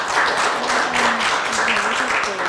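Audience applause at a Korean policy forum ceremony after an appointment is announced, dense steady clapping from a room of people that continues throughout with faint voices underneath.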